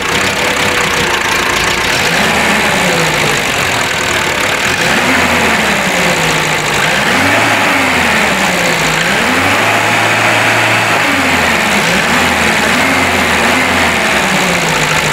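A Renault Trafic van engine, being fitted with a tachometer, idles loudly and close, then revs up and down in several swelling waves before settling back to a steady idle.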